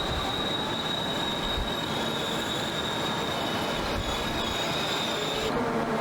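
A train at Purwokerto railway station in Central Java gives a steady, loud metallic wheel squeal over continuous rolling rail noise, with no talking.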